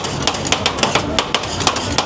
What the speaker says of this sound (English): this is the sound of stir-fried ice cream, better known as rolled ice cream